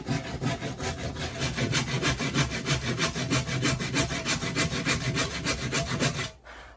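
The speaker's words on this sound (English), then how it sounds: "I'm going to put my 2x4 right on that line, so I end up cutting next to it." Rapid back-and-forth rasp of a hand saw cutting freehand through a wooden 2x4, an even rhythm of strokes, close and loud, that stops abruptly near the end.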